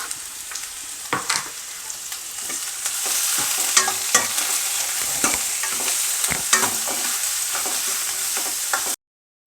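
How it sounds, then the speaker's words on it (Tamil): Mango pieces tempered pickle-style in hot oil give a steady, bright sizzle, broken by clicks and scrapes of stirring close by. "ஊறுகாய் மாதிரி தாளித்து எடுத்து போகிறேன்"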